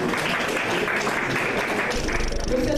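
Brief applause at a wedding ceremony, a short burst of scattered hand clapping from a gathered crowd over a busy room background.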